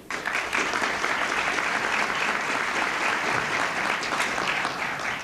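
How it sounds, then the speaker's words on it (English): An audience at a public hearing on the death penalty in New York applauds steadily, a dense, even wash of many hands clapping close by with no talk over it. "You may want to hold your applause."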